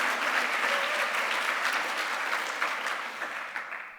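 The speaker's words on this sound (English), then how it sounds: "Give a round of applause." Steady audience applause at the opening night gala of Melbourne Jewish Book Week 2024, sustained clapping that fills the room and tapers off slightly toward the end.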